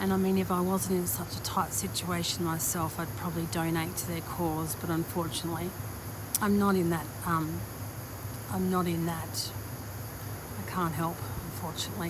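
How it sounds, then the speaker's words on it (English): A washing machine runs in the background as a steady hum and hiss beneath a person talking continuously throughout. "There's a washing machine going."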